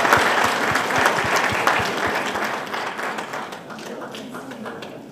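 An audience at a panel applauds to welcome Madame Nezia Labidi, a loud dense wash of clapping with some faster rhythmic claps, gradually fading toward the end.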